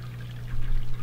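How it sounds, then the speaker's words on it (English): Water begins running into a food waste digester system, switched on by a foot pedal; a steady pouring rush rises over a low motor hum, close and fairly loud. "now that I've plugged that in with my little foot pedal, I will get the water started."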